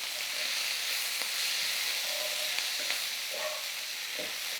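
Sliced onions and green chillies fry in oil in a pot previously used for frying dried fish and eggs, giving a loud, steady, even hiss with a few faint ticks and pops and no talking.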